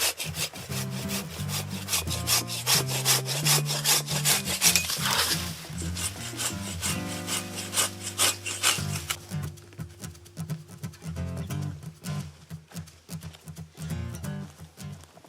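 Hand saw cutting through wood outdoors at a survival shelter build, a loud close series of rhythmic rasping back-and-forth strokes that gradually slow and grow fainter toward the end.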